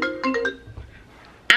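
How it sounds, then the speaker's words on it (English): A computer ringtone chimes in a short bright melodic run, followed by quiet room tone and a sudden loud burst at the end. "Because my computer's ringing"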